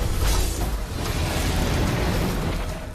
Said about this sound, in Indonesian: Terjadilah ledakan ketiga yang cukup besar.